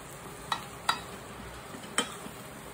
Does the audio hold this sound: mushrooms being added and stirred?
yes